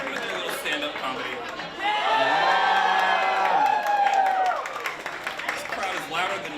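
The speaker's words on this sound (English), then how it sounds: "This crowd is louder than Shaun Sawant and Hellcat put together." Crowd at a Seattle candidate event cheering and whooping, a swell of mixed voices and high shouts rising over chatter, peaking loudly in the middle before easing back into murmur.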